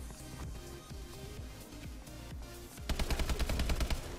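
Rapid shotgun blasts in Call of Duty: Advanced Warfare multiplayer, a run of sharp, loud repeated shots that thicken into a dense burst of gunfire near the end, with no talk.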